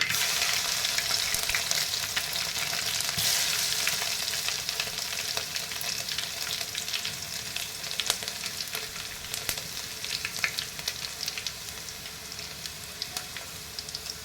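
Crushed garlic sizzles in hot oil with mustard seeds for a spring onion greens stir-fry, a dense crackling hiss that is close and steady, easing slightly over time with occasional sharper pops.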